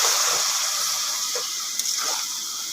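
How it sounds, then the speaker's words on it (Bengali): Water poured from a warm pot into a pan of sautéed jackfruit and potato curry makes a steady close hiss and gush with faint splatter, lasting a couple of seconds. "এবারে আমি একটুখানি জল দেব।"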